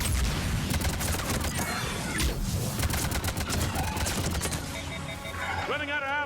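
Gunfire in the video game Mass Effect 3, rapid dense bursts of automatic shots in a continuous fusillade, loud and close, with a voice briefly heard and a synthetic warbling tone at the end.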